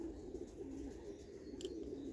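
A Belgian racing pigeon from the Pantani family, held in the hand, gives soft, low cooing in a continuous throaty rolling murmur, close but quiet, with no one talking over it.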